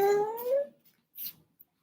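A dog whimpers and howls close by in a long, falling whine, followed after a pause by a short second cry and a faint yelp, with no talking.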